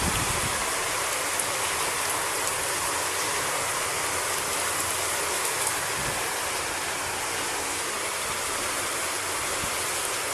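Heavy typhoon rain pours down steadily and loudly in Pili, Camarines Sur, as a dense, unbroken hiss with no voices.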